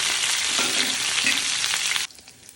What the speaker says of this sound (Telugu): స్టవ్ వెలిగించి పెనం పెట్టేసుకొని తాలింపు గింజలు అయితే వేసాను